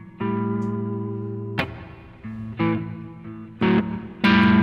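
Fingerpicked blues guitar runs through a distorted tube amp, struck in several separate attacks. Each plucked chord or note rings out with a gritty, sustained, reverberant tone and grows harsher on the harder hits near the end.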